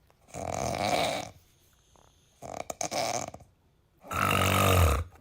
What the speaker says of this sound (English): So I snore really bad